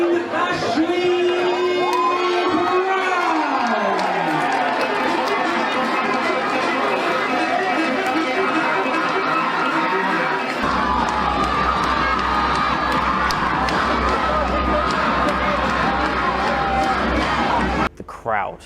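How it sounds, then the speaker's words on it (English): A boxing crowd of around 500 people roars and cheers as a fighter walks into the ring, a sustained dense wall of shouting, whoops and cheering with an announcer's voice over it at first. "a lot of them were on my side, they were cheering my name."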